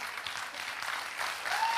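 Audience at a motivational seminar clapping, a steady moderate patter of many hands, fairly soft and continuous, with no one talking over it.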